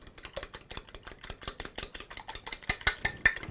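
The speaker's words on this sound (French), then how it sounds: "des œufs que l'on va battre" Eggs beaten briskly with a fork or whisk in a bowl for a breading station: a rapid, steady run of sharp clinking taps against the bowl, close and alone, with no voices.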